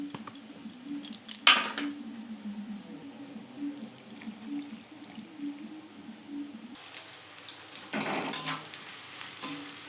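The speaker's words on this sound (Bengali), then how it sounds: "পেঁয়াজগুলো আমার গোল্ডেন ব্রাউন করে ভাজা হয়ে গেছে।" Onions fried golden brown in oil give a low, steady sizzle with occasional louder crackles and stirring scrapes, close and continuous, with no talking.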